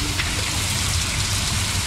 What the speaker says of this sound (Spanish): Está lloviendo claramente,